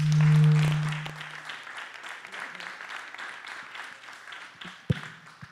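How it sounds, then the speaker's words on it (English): An audience at a cyber conference applauds the paper authors, starting loud and then thinning into scattered, fading claps, with a faint voice and a sharp knock near the end. "please join me in applauding the authors"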